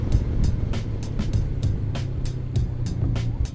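A Honda NX500 motorcycle pulls hard from second gear, its engine a steady loud drone broken by regular sharp pulses, close and continuous throughout.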